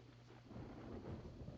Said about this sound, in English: The sounds of echoing thunder are getting closer and closer.